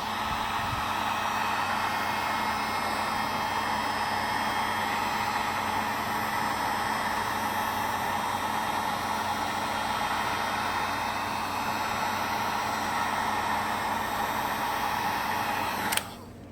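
A heat gun blowing hot air onto a thermoplastic sheet, a loud steady whooshing roar held continuously close by for about sixteen seconds before it abruptly switches off.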